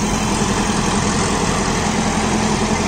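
A John Deere 5405 CRDI 63 HP tractor engine idles steadily, a loud, close and unbroken diesel rumble with no voices.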